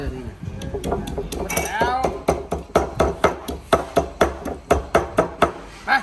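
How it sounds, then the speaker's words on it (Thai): A knife chops through fish heads on a board for fish larb, a run of sharp, regular knocks close by, coming faster toward the end, with someone talking early on. "ตัวสองตัดหัวกันครับ"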